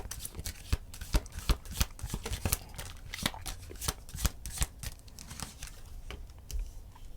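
Tarot cards being shuffled by hand, a steady run of crisp riffling and slapping card sounds with sharp snaps scattered throughout, close up and continuous with no talking.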